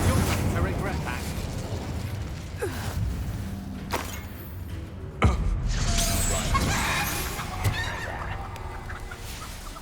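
Spell blasts and explosions in the Hogwarts Legacy video game, with loud bursts and booming impacts amid busy game sound effects, while a voice talks over the action.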